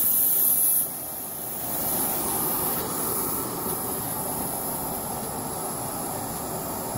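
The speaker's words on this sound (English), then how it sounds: "that's probably the amount of steam I'm going to be injecting into the combustor of the device I'm building" Steam from a small homemade micro boiler hissing steadily out of a partly opened valve, a loud continuous broadband rush that lasts for several seconds after a brief louder burst at the start.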